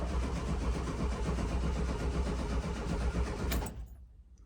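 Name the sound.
VW Kombi engine cranking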